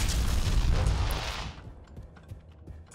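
A deep, rumbling explosion in Wolfenstein II: The New Colossus booms loudly, then its roar fades into a quieter crackling tail.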